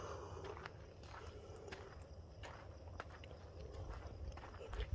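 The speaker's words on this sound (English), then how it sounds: "I keep hearing like the odd footstep" Scattered footsteps crunching over dried leaves in a cemetery, a few irregular steps close by under a steady background hum.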